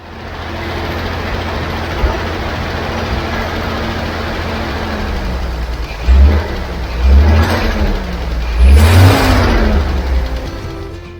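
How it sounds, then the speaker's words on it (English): A 50-year-old petrol Bedford truck engine idles with a steady low rumble, then is revved three times in succession, each blip rising and falling, loud and close. "the engine is sounding pretty good"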